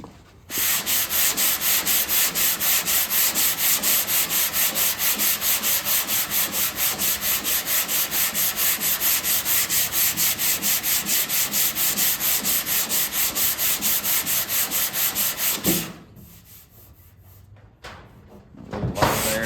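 Steady, rhythmic back-and-forth scraping of a sanding block on a hard panel, loud and close, continuing for a long stretch before stopping near the end.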